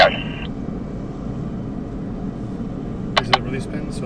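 A T-38 jet taking off at the California Capital Airshow gives a steady, fairly loud low roar throughout, with two brief sharp clicks near the end.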